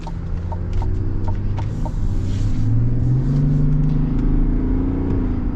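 A 2024 GMC Sierra Denali pickup pulls away with a steady, loud engine drone whose pitch climbs as it gathers speed. A few faint clucking chirps sit on top of the sound, and no one speaks.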